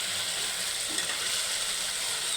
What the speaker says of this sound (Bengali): এখন সুন্দরভাবে এটাকে কষিয়ে নেব পেস্টটাকে আমি। আর এখানে এই যে মশলাটাকে সুন্দরভাবে আমি কষা নিচ্ছি। এখন দিয়ে দেবো শুটকিগুলো আমি।